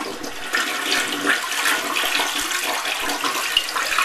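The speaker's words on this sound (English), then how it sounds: "So here's a U.S. toilet." A U.S. toilet flushes, its water swirling clockwise in a close, continuous rushing gush that lasts about four seconds, with no one speaking.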